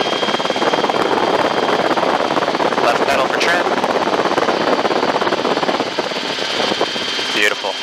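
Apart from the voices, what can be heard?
helicopter in flight, cockpit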